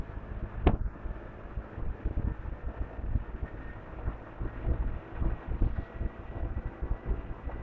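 Steady rushing wind buffets the microphone with low rumbling gusts throughout, loud and close, with a brief sharp knock near the start; wind noise while riding a motorcycle at about 110–120 km/h, wearing a THH T840S helmet.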